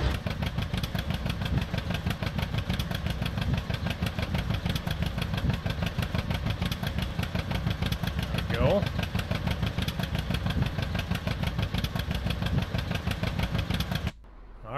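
An old tractor engine runs in Farming Simulator 19 during a classic wheat harvest, a steady, throbbing mid-pitched chug that continues at an even pace for most of the stretch before cutting off near the end.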